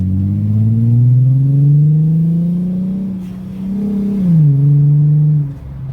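Mercedes C240 W203 with a muffler delete driving, its loud, raspy exhaust rising in pitch through acceleration, dipping between gears, then climbing again before easing off near the end.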